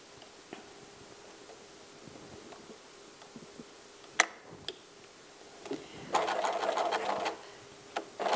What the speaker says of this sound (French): Nous allons donc piquer une partie de notre sac en faisant bien attention d'avoir les deux épaisseurs du tissu